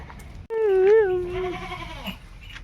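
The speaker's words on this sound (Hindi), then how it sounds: "सुबह सुबह बकरियों के बच्चे भी खेल रहे हैं बाहर" A young goat bleats outdoors in the early morning, one loud, wavering cry lasting about a second that tails off into a softer bleat, close by and alone without speech.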